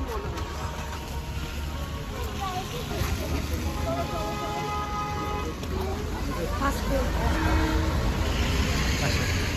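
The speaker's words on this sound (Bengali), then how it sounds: "ট্রেন আসছে।" A train approaching near Ghum Monastery in Darjeeling, its rumble building steadily with a few faint toots, beneath nearby voices talking.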